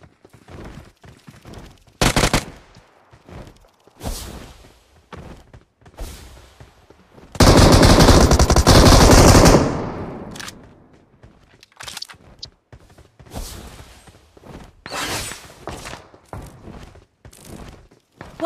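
Gunfire from an AKM and an M249 in the mobile shooter BGMI: a burst near 2 s, a dense loud automatic volley from about 7.5 to 9.5 s, and scattered shorter shots and thuds through the rest of the match action.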